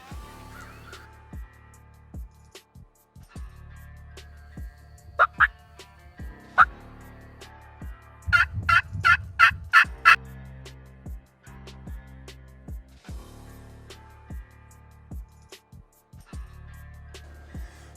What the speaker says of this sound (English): we finally got one gobbling